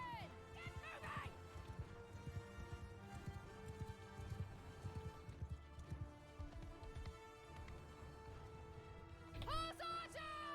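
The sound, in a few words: horses galloping in Mount and Blade II: Bannerlord video game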